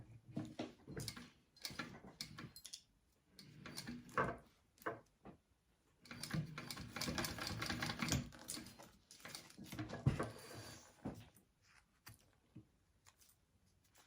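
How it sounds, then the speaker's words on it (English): A sewing machine stitching folds into place on a fabric wallet, quiet rapid mechanical ticking in several short runs and one longer steady burst, separated by pauses and small handling knocks. "I'm gonna just stitch those folds into place here"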